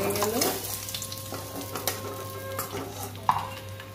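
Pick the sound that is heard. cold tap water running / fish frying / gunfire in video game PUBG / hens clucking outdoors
fish frying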